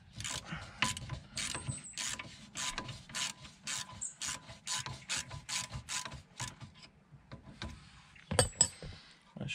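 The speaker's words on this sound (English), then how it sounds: "All you need is a 16 mil spanner to hold the nut on this side" A spanner works a nut on a binding Volvo brake, giving a run of quick ratcheting clicks and metallic scraping taps, close and fairly loud, with a few sharper knocks near the end.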